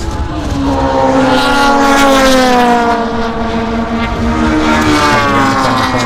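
Race cars, including a Mazda RX3 and a Datsun, roar past on a circuit at Island Magic, their loud engine drones rising and falling in pitch as they pass close by, with no talk.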